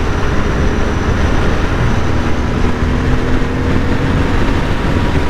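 A 2022 Royal Enfield INT 650 motorcycle engine pulls hard at high RPM under throttle in fourth gear, a steady loud drone mixed with heavy wind and road roar, continuous with no break.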